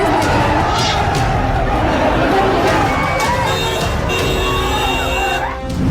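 An unruly crowd of fans presses around actress Nidhi Agarwal in Hyderabad, pushing for selfies, with a dense, continuous babble of shouting voices and some cheering, close and loud.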